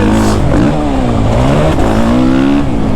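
A Suzuki RMZ 450 dirt bike engine revs loud and close while being ridden on slick, dry ground, its pitch rising and falling through continuous throttle changes.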